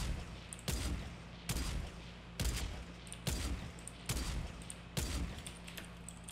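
Automatic sniper rifle in Fortnite firing eight evenly spaced, loud shots at a steady pace, each a sharp crack trailing into a short decay, with no voices.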